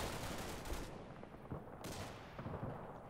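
A Tunguska anti-aircraft gun firing in a military combat video game, a dense, loud, continuous roar of rapid fire with heavier bursts punching through, no voices.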